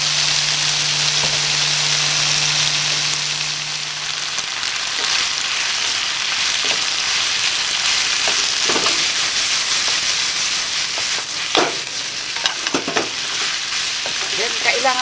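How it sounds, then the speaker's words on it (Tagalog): Pork for a bell pepper and oyster sauce stir-fry sizzles loudly and constantly in a pan, with occasional stirring scrapes and clatters. "Then, ilalagay na natin itong pork."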